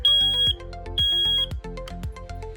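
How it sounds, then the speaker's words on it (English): Ionization smoke detector sounding during a basement alarm system test, loud repeated electronic beeps in a regular pulsing pattern, nearby and reverberant, with no talking. "And I guess we'll test the ionization detector"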